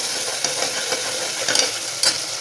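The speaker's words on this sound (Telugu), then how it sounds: "సో మసాలా మనం ఫ్రై చేస్తున్నాం కదండి." Ginger garlic paste and turmeric masala frying in oil, a steady close sizzle with scraping stirs and a few brighter spatters, no voices.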